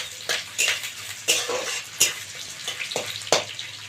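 Onions go into hot oil in a pan for a Bengali goat-tripe curry, with a steady sizzle punctuated by several sharp clinks and scrapes of a spoon stirring against the metal.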